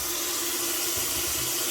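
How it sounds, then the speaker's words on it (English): Hot water pours steadily from a tap in a nail studio, a continuous close, even rushing stream with no talk. "But now I'm going to take hot water."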